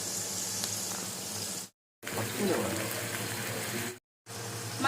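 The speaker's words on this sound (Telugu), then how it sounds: "అందుకే లో ఫ్లేమ్లో పెట్టుకొని మనం ఫ్రై చేసుకోవాలి పన్నీర్ అనేది" Paneer frying in a pan on a low flame, giving a steady close sizzle that is cut by two short silent breaks.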